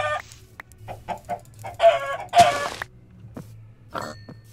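A chicken in the video game Minecraft clucks repeatedly in short, close bursts against a quiet low hum.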